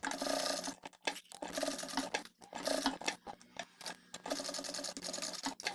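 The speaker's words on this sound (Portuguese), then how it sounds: "E aí nós vamos fazer uma costura." A sewing machine stitches a small square to hold a bag strap, running in close, loud bursts of rapid needle chatter broken by short pauses, with no voices.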